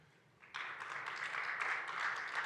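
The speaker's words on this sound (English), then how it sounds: "So give yourself a round of applause." Applause from a conference audience swells abruptly after half a second and then holds as a steady, dense round of clapping, fairly distant and moderately loud.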